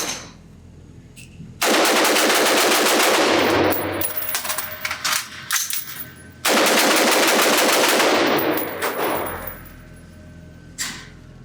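A Knight's Armament SR-15 pistol fires in two long rapid strings at a range, loud and close, with a clatter of handling and metallic clinks between the strings.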